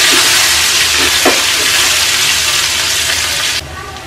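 Chopped onion, green chillies and curry leaves frying in a pan: loud, continuous sizzling throughout, with a few stirring knocks early on, and the sizzle easing suddenly near the end.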